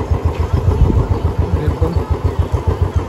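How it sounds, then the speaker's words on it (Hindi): A motorcycle engine thrums at low revs while riding slowly through a market, with a loud, steady pulsing beat that carries on throughout. "अनूप के साथ जा रहे हैं अनूप की बाइक पे।"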